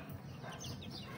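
Chickens cluck softly and steadily in a quiet farmyard, including yellow-legged roosters, with low murmuring bird sounds continuing throughout and no other clear sounds.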